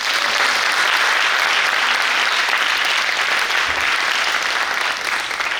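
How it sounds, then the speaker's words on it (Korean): A church congregation at a seminary opening worship service claps steadily and loudly to welcome a pastor, a dense, even wash of applause filling the room without pause. "함께 목사님께 환영한다는 박수로"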